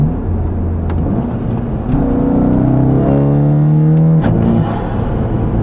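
A VW Mk7 GTI with an AWE Track exhaust cruises at about 50 mph onto a highway, a loud interior drone and tire rumble with the exhaust note rising in pitch and then dropping as the gear changes.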